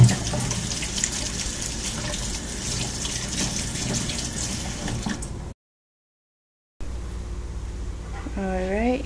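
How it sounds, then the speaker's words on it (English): Tap water runs steadily into a kitchen sink while hands are washed during crock pot pork chop preparation, a close continuous gush that cuts out briefly before resuming. "Wash my hands again real quick."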